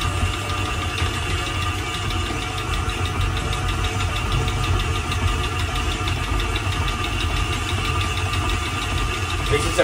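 A stand mixer kneads Paraguayan cheese bread dough, with a continuous motor drone and a fast, even knocking thump from the dough hook, loud and unbroken throughout.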